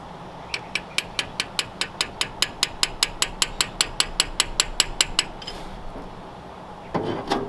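Rapid metallic tapping on a stuck valve in a 1939 Ford convertible engine that sat abandoned for years, a steady run of about twenty evenly spaced sharp clicks close up, stopping before a brief muffled bump.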